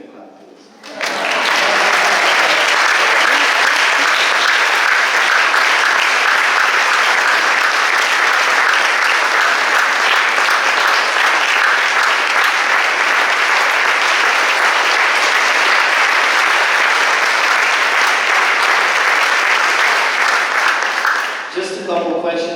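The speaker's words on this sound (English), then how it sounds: "Just give me a clap, please." Sustained audience applause fills a hall after a personal recovery talk at a Tune IN event, loud and steady for about twenty seconds before tapering off.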